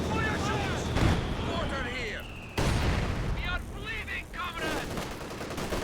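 Repeated artillery-style blasts and gunfire from a Company of Heroes 2 battle, mortar shells landing in a loud, continuous barrage with a sharp surge partway through, while a voice talks over the game action.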